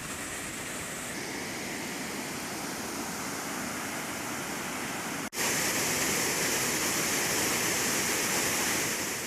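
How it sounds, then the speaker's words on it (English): Loud, steady roar of water pouring over a dam, broadband and continuous, with a brief dip midway before the rush resumes even stronger. "The waters are churning and rushing over the dam."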